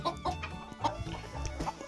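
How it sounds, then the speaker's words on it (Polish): A rooster clucks in short repeated bursts close by, with a few sharper calls spaced across the moment and no other sounds. "Tutaj mamy oczywiście też koguta Stefana, który też pozdrawia."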